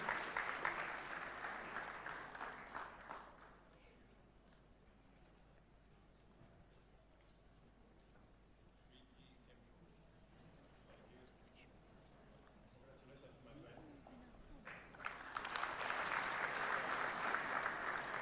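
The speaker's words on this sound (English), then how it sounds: "A round of applause kindly." Applause from the audience at a taxpayers' awards ceremony, a broad burst of clapping at the start that fades into near quiet, then a second round swells up near the end.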